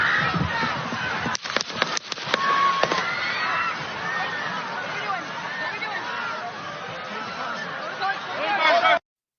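Gunshots ring out at Trump's outdoor rally: several sharp, loud cracks in quick succession near the start, followed by a sustained roar of crowd screams and shouting that continues to the end.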